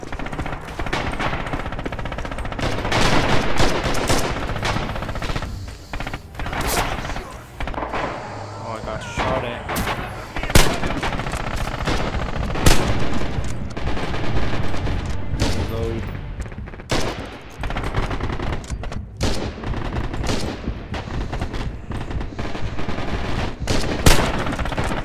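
Machine gun and rifle fire crackle almost nonstop in the video game Rising Storm, rapid bursts and single shots layered with thuds, while voices talk over the battle.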